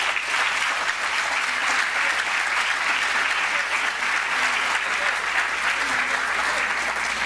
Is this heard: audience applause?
yes